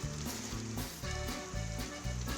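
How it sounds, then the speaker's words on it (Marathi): Chicken sukka frying in a pan gives a continuous, close sizzle with crackling, holding steady across the whole stretch with no talking. "आता चिकन सुक्का इकडं चालू आहे"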